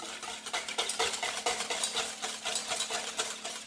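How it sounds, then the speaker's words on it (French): Homemade monoi after-shampoo conditioner being stirred in a container, a quiet, continuous scraping and swishing with an uneven rhythm, close up and alone. "Voilà, on mélange."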